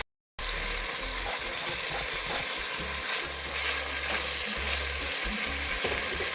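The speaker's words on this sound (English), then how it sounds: "I'm just going to let this cook a little bit so the tomato can release the juices for like 2 minutes" Tomatoes sauté with garlic in a hot pan, a steady close, bright sizzle that runs nearly unbroken, with faint stirring clinks and scrapes now and then.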